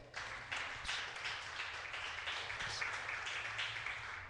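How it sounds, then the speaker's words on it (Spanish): A church congregation claps together in steady, rhythmic applause at moderate volume, with a low hum underneath and no talk over it. "Dele un aplauso al Señor."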